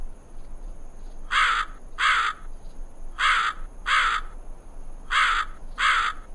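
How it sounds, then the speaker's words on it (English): A crow caws in a repeated series of six harsh calls, grouped in pairs with short gaps, close and clear over faint background hiss. "One hot summer day, a crow became very thirsty."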